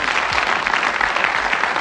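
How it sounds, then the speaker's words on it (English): Studio audience applause on the 1984 Bullseye Christmas Special game show, a dense, loud, continuous wash of clapping heard alone for about two seconds. "Give them a round of applause, some super prizes."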